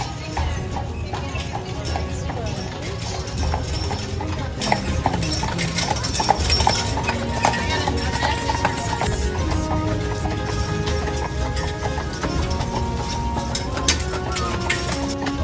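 Steady clip-clop of horse hooves on pavement on Mackinac Island, a horse-drawn carriage trotting along nearby, with a horse whinnying briefly and faint street voices in the background.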